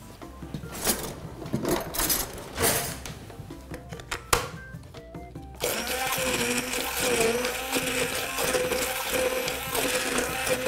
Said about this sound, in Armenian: Սա տեղափոխում ենք հարիչի ամանի մեջ, ձվերի վրա, առանց կտրատելու, և հարում ենք